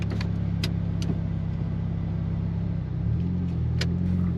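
A 2024 Subaru WRX fitted with an STI wing cruises along the road, its engine a steady low drone with a shift in pitch about three seconds in, close and continuous with no talking.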